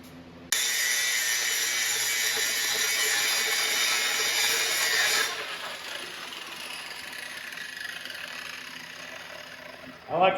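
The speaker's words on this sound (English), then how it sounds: "We're just going to jump in here real quick, finish grinding this stuff out." A power grinder grinding down heavy welds whines loudly and steadily for several seconds, then its pitch drops as it winds down, leaving a rougher mechanical hum.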